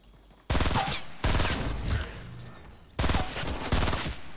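Rapid bursts of pistol gunfire in the video game Fortnite, three loud close volleys of quick repeated shots separated by brief pauses, with no talking.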